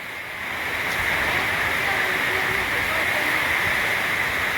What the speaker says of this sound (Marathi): हे बघा, ही जी पूर्ण आहे असं नदीचं तिथं पात्र आहे